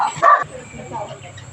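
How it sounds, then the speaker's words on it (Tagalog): A dog on a street gives a short sharp bark near the start, then the sound settles into quiet outdoor background with faint voices. "Uy, may aso"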